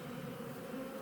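A faint, steady buzzing hum of black hybrid honey bees, continuous and without other sounds.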